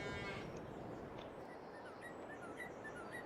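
Cows moo in the farming game Farming Simulator 22. A short, fairly loud moo opens the clip, then a steady, noisy barnyard ambience continues with a few faint squeaks and no talking.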